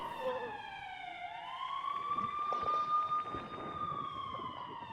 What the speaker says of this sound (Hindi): इस वक्त चंडीगढ़ में चेतावनी वाला सायरन बजा है